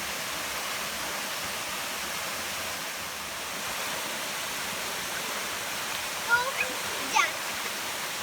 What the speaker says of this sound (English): And the waterfall and the pool.